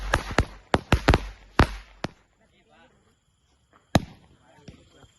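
Firecrackers burst during Diwali celebrations in a rapid series of sharp, loud bangs, followed by a quieter gap and then one more crack and faint scattered pops.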